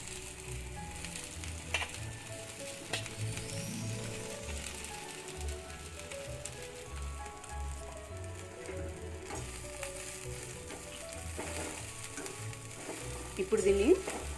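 Chopped gongura leaves fry in a pan with a soft, continuous sizzle and occasional stirring scrapes and clinks, close and fairly quiet, with a louder clatter near the end.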